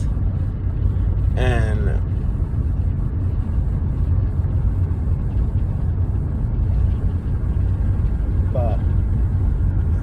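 A car driving past a cemetery, a steady loud interior engine rumble and road noise throughout, with a voice speaking briefly over it.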